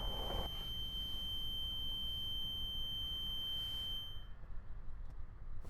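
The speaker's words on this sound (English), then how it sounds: "That's the sound of the ceiling hatch buzzer." A continuous high-pitched electronic school bus ceiling hatch buzzer sounds steadily for about four seconds and then cuts off, over a low rumbling engine-like background.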